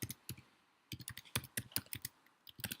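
Keys clicking in quick, uneven bursts as a function is typed into a Google Sheets cell on a computer keyboard, close and fairly quiet, with no voice.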